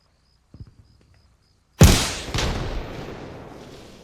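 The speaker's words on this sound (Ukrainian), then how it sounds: "я зараз просто зроблю тестовий постріл і подивлюся, чи заряд летить по хрестику, чи він летить нижче." A single test shot from a machine gun in the video game Arma Reforger: a sharp, loud crack and heavy boom that rolls off into a long echoing decay, after a few faint clicks.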